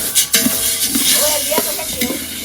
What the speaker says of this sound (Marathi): ओके काळी मिरी भाजून झाली आहे